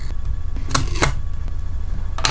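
Duct tape being cut during a candy-cane bookmark craft: a few short, sharp tearing snips stand out over a low steady hum, with no talking.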